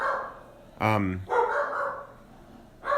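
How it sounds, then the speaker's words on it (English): Dogs bark excitedly indoors at home, one sharp yelping bark and a few more bursts breaking through while people talk. "The dogs are going crazy."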